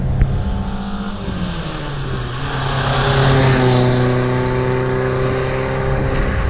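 A 1967 Ford Lotus Cortina Mk2 engine holds a steady drone at around 2,000 RPM from inside the cabin, loud and even, rising slightly in pitch midway before settling back.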